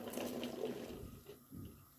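Water splashes into a pot of green fava beans, a brief close gurgling pour that fades after about a second, followed by a soft knock.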